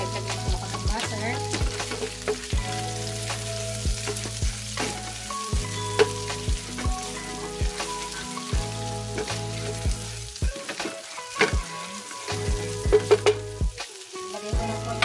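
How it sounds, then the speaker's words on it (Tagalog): Butter sizzles and crackles as it melts in a saucepan for cheesy creamy shrimp, a steady close frying hiss with scattered pops and stirring scrapes, no talk. "Magdagdag lang po ako ng butter."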